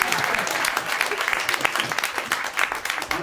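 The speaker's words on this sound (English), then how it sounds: "I think they deserve a bigger clap than this." Seminar audience clapping in a sustained, dense burst of applause that fills the room evenly from start to finish without pause.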